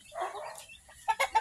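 Jersey Giant chickens clucking in a winter setting, a brief soft murmur followed by three quick, sharp clucks close by, with no talk.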